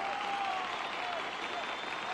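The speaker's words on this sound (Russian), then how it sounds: "И разогретая массовка встретила Вовочку шквалом аплодисментов." A warmed-up television studio crowd breaks into a steady wash of applause, dense continuous clapping with a faint voice over it.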